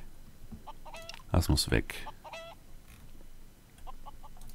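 Mini-Chocobos, chicken-like farm creatures in the game Craft the World, give a short run of clucks and squawks that are moderately loud over quiet background clucking. Someone speaks briefly.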